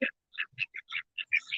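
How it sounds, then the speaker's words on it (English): Several short nasal quacks from a family of brown ducks, spaced irregularly and moderately close, with brief gaps of quiet between calls and no talking. "These are not the normal ducks that I hang out with either."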